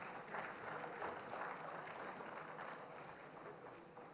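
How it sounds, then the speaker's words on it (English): Applause from a conference audience for a panel speaker at a security operations session, a steady wash of clapping that holds evenly and is heard faintly, as if from a distance. "Round of applause once again."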